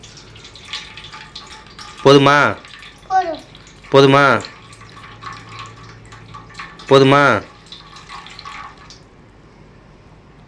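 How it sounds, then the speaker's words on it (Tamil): Water is poured onto a plate for a soap and pepper experiment: a faint, steady trickle runs beneath a child's repeated loud questions and an adult's voice. "பிளேட்டில் என்ன பண்ணிக்கலாம், தண்ணி ஊற்றிக்கலாமா? ஊற்று ஊற்று கொஞ்சம் உஷாராக ஊற்று"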